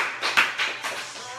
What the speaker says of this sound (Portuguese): Vamos dar uma salva de palmas para agradecer a Deus por esse dia maravilhoso